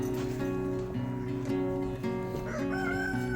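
A rooster crows repeatedly on a homestead farm, loud and close, its calls layered over a steady backdrop of other fowl and farmyard noise.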